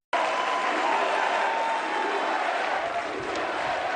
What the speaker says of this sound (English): The crowd on Saturday erupted into cheers of, you can hear it right there, USA.